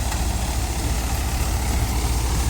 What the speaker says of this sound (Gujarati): મહિન્દ્રા 575 એટલે કે 45 હોર્સ પાવરના ટ્રેક્ટરમાં ચાલે છે અત્યારે